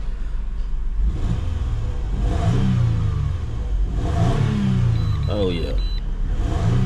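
A 2002 Toyota Highlander engine that had been throwing a check-engine light revs in a few rising surges close by, with a person talking over it.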